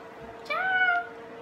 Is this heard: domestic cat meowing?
yes